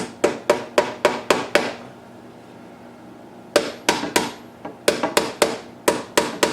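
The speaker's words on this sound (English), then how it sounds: "Just gonna lightly tap it to start. Need a smaller hammer." Sharp metallic hammer taps lightly seating a triple tree bearing on a 2016 Africa Twin motorcycle, in quick rhythmic bursts, a run of six, a pause, then another steady series of strikes, close and crisp.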